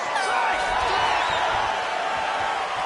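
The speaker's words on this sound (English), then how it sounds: "So the crowd voicing its appreciation after that round." Crowd at a live fight event cheering and roaring after a round, a broad steady wash of many voices filling the arena.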